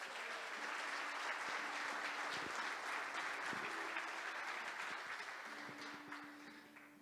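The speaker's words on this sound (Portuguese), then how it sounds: "Você pode aplaudir a palavra de Deus?" A church congregation breaks into steady applause for the word of God, a broad wash of many hands clapping that holds for several seconds before slowly tapering off.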